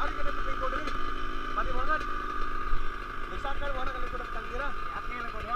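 Motorcycle on a mountain trail in Gaas, Balamban, a steady engine drone with wavering pitch shifts as it rides, with people talking over it.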